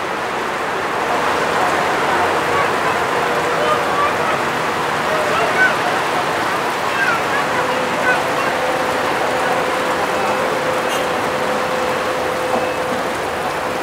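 Steady, even rain hissing continuously throughout at an excavation site, with a faint excavator engine hum underneath.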